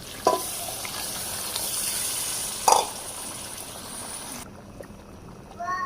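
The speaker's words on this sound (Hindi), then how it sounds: "अब इसमें हम अपनी यखनी डालेंगे।" Yakhni stock is poured into a beef pulao pot, with a steady hissing sizzle and watery splashing that swells in bursts, then quiets near the end.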